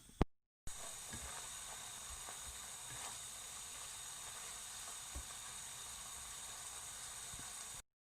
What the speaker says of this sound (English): Got that starting to fry.